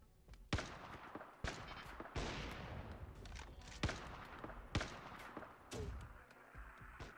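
Video-game gunfire in a swamp shootout, with sharp irregular shots and bursts at varying distances and nobody talking.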